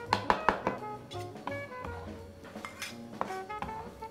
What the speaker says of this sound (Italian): Adesso andiamo a tritare questo caviale di melanzane